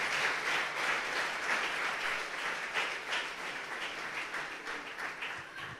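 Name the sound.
congregation applauding in church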